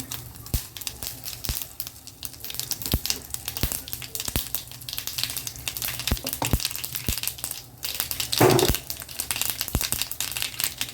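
Mustard seeds and asafoetida fry in hot oil for a spicy kara chutney, giving a close, steady sizzle dotted with sharp pops and crackles from the bursting seeds, with no speech.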